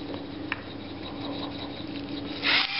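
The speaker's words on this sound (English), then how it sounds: "lots of fresh ground cracked black pepper" Fresh cracked black pepper ground over beef for a hearty beef stew in a home kitchen: a short, close, gritty grinding rasp comes near the end over a steady low kitchen hum.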